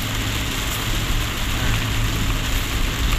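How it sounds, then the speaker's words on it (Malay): Heavy rain pours down in a steady, loud broadband hiss with a low rumble underneath, continuous and unbroken throughout. "Di sini dah hujan lebat tu."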